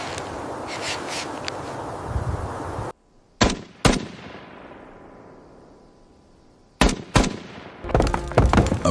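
Sharp gunshots crack in pairs out of silence, each followed by a long fading echo, loud and close with no voices.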